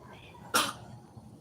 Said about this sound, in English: She's coughing something up.